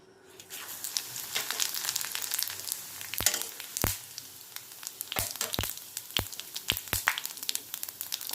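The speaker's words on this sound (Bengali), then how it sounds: "নিয়েছি গোটা জিরে, শুকনো লঙ্কা, দারচিনি, এলাচি, এগুলো আমার ফোড়নে যাবে।" Whole cumin, dried chillies, cinnamon and cardamom tempering in hot oil give a soft, low sizzle with scattered sharp pops and crackles, quiet and close with no voices.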